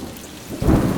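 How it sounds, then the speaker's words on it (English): A thunderstorm sound effect plays during a stage performance of Frankenstein: steady rain underlies a sudden deep, loud rumble of thunder that breaks in near the end. "I was disturbed fitfully by crashes of thunder and lightning flashes along the mountainside."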